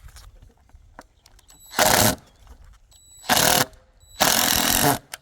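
A power drill drives a screw while solar lights are mounted in a garden, three loud buzzing bursts of about half a second each, separated by quiet pauses with faint handling noise.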